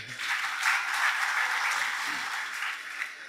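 Audience applause at a career counselling event, a soft, fairly distant spread of many hands clapping at an even level for a few seconds.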